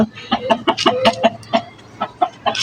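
Hens clucking close by in a quick series of short, sharp bursts, several overlapping with no talking, inside a henhouse.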